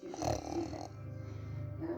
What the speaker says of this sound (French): Elle qui ronfle.